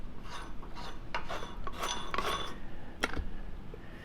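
Metal scraping, clinking and rubbing as the head is taken off a Model 143 gas regulator once its locking nut is removed, with several close, brief handling clicks and one sharp knock near the end, and no talking.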